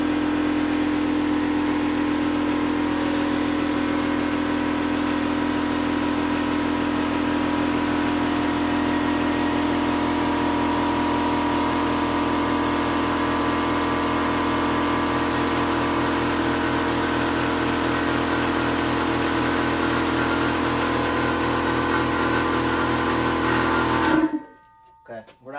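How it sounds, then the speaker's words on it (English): A Ridgid air compressor runs loud and close, its motor droning steadily as it fills the tank, then it cuts off abruptly near the end. "Not awful loud, but it is, you know, an air compressor."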